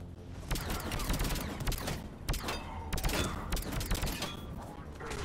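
An auto sniper rifle in Mass Effect 3 fires in quick successive sharp cracks, loud and close, over continuous battle noise.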